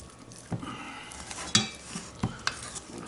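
Ciabatta bread dough is folded over by hand, producing soft, wet slaps and sticky thuds in an irregular rhythm, close and fairly quiet, with no talking.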